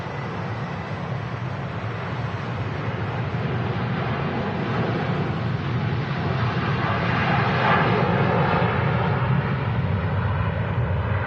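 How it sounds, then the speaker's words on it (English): EasyJet airliner arriving from Palma de Mallorca on final approach into Manchester Airport at about 900 feet: a steady, loud, broadband jet roar that holds throughout and swells slightly toward the end, with no voices. "pretty close behind is the next arrival, only at 900 feet, coming in from Palma de Mallorca,"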